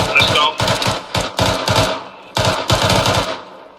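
Automatic rifle in Arma 3 laying down suppressing fire in rapid bursts, several sharp strings of shots with brief pauses between them, loud and close.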